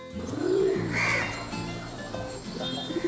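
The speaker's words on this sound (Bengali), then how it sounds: "কবুতর মানে এগুলো আমার কবুতর" Pet pigeons coo low and soft close by in a steady outdoor ambience, with a throaty coo early and faint bird calls later.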